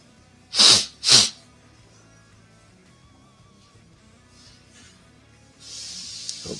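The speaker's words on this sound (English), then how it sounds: "Oops, sorry for the sniffles." Two sharp, loud sneezes come in quick succession, followed by quiet room tone and then a soft hissing sniffle near the end; no talking.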